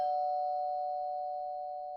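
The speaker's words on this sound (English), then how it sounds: "A polite doorbell now." A single doorbell chime rings out clearly with no talk over it, its steady tone ringing on and fading slowly across about two seconds.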